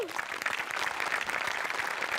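A studio audience at a Marathi comedy show claps in a dense, steady burst of applause that holds at an even level for a couple of seconds.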